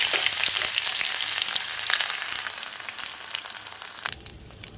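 Ground ginger frying in a pan with whole spices like cinnamon, cardamom, cloves and mace, a continuous close crackling sizzle with intermittent sharp spits and scrapes.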